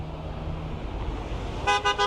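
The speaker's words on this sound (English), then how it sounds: "people are very excited when they pass the windmill. They always honk their horn." A passing car honks its horn by a windmill, three short bright toots near the end after a stretch of low road rumble.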